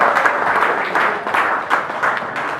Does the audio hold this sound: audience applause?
yes